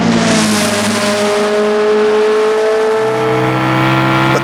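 In the Assetto Corsa racing game, a race car engine revs loud and close, its pitch rising in a long sustained pull, then easing briefly and climbing again near the end.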